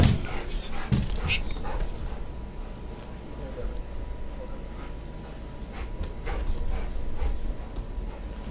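A police K9 dog pants and whimpers during a training exercise, with quick breathy panting and small whines over steady background noise and people talking.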